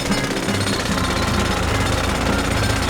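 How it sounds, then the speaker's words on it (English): A cartoon pencil drill bores a path through a water pipe, giving a loud, steady, continuous rattling hammer-drill grind that runs unbroken throughout. "Now, let's see how the pencil drill works."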